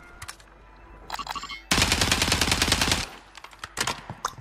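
Sustained automatic gunfire from the video game Warzone, a dense rapid burst lasting over a second, with scattered sharper shots before and after.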